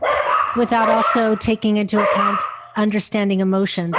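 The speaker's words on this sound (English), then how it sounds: "And I apologize for the dogs barking" Dogs bark repeatedly in loud, close bursts with some higher yips, overlapping a person speaking during an online webinar.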